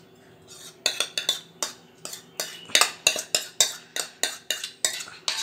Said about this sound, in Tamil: ஆனால் கைவிடாமல் நீங்கள் வந்து இதை கிளறிக்கோங்க